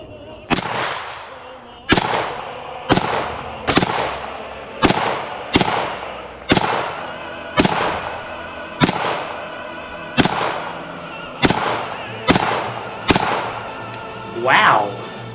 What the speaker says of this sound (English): Time to try the AK-47 on the YouTube play button.